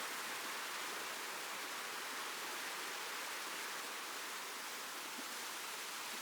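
Water cascades down a waterfall on Siquijor island, producing a continuous, full roar of falling and flowing water, close and steady from start to finish, without talk.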